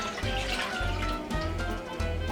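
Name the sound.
rice washing water poured into pot for sinigang broth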